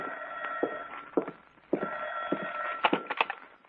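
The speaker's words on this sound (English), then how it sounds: "it was about 11 o'clock when the phone rang." A telephone rings at home in the apartment around eleven at night, a few short bursts of ringing bell tones with brief gaps, up close and alone with no talk.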